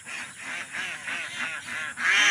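Ducks quacking close by, a dense overlapping chorus of nasal honks and quacks from a group of ducks, loud and continuous.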